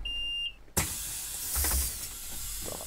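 In the OMSI 2 bus simulator, a Solaris city bus on a night route in Kojetice starts up after a high electronic tone, a sudden loud hiss and mechanical rush followed by a steady idling rumble with air-release puffs, with no speech.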